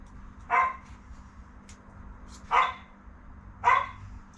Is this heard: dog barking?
yes